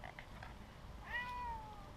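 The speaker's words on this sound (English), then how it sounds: "He says meow." A big cat outdoors in a backyard gives one short, faint meow near the end, against quiet background noise.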